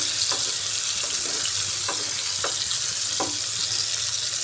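Pointed gourd (potol) pieces fry in oil, a constant loud sizzling hiss with a few distinct spoon scrapes and taps at intervals, no voices.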